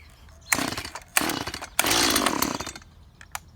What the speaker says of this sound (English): Alright, I'm gonna go start the chainsaw.